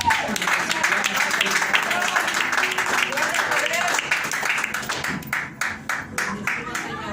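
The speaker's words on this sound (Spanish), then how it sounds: "Dale otro aplauso" A church congregation applauds during a Spanish-language sermon, dense clapping filling most of the stretch and thinning out near the end, with a voice speaking over it.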